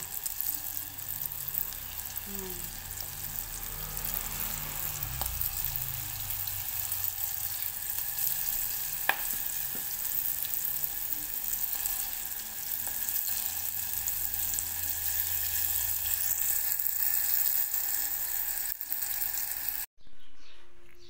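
Onion rings deep frying in hot oil give off a steady, close sizzle and crackle that runs unbroken for about twenty seconds before cutting off abruptly.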